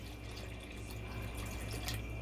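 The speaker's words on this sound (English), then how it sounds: "Now I'm gonna put in about 2 cups of water" Water pours steadily into a cooking pot for a chicken stew, a faint continuous splashing trickle with no speech.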